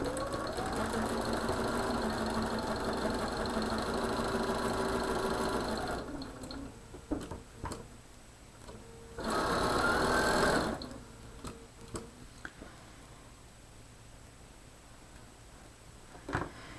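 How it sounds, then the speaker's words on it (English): A sewing machine stitches the short end of fabric into a tube for a combo cushion that holds clips and pins, running steadily for about six seconds, then a brief second burst between quieter handling noises, close and alone. "And again, I'm sewing my short end."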